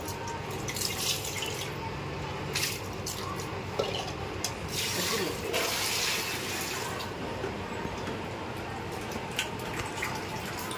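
Meat washed repeatedly in plain water for a Bakrid meal: steady running and splashing water with drips and rubbing, continuous and close, no voices.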